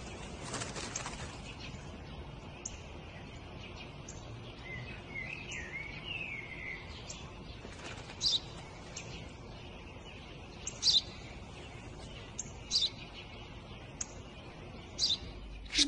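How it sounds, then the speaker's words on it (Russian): A sparrow gives short, sharp chirps at irregular intervals over steady background noise, fairly faint and without talk. "Это воробей, отец, воробей."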